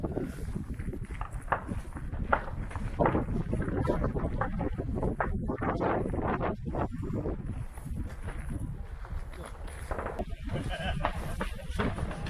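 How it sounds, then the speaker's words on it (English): Strong wind gusts buffet the microphone at an outdoor shooting range, a loud, continuous low rumble with fluctuating roar throughout, no speech audible over it. "Windy as all get out."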